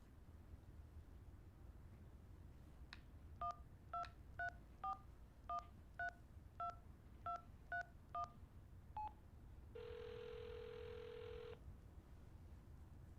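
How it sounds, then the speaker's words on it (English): A phone number is dialed in the video game Hitchhiker: a steady series of about ten clean touch-tone beeps, followed by a longer tone burst, all over a quiet hiss with no talking. "Dial the number."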